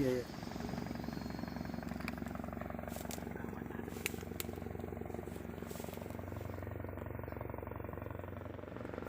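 A Bell 412 helicopter's rotor thumps in a fast, even rhythm with a droning engine underneath, continuous and fairly close throughout, with no pauses.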